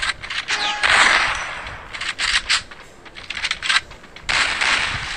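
Shotgun blasts in a mobile battle royale shooter game come in quick sharp bursts, several closely spaced cracks with a louder cluster near the end, alone without speech.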